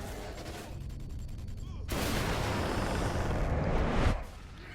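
Sustained bursts of gunfire from the zombie shooter Zombie Army Trilogy, a loud dense volley that swells partway through and then drops back to a quieter background.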